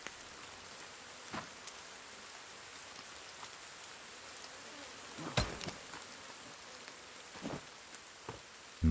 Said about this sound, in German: Regnet schon wieder.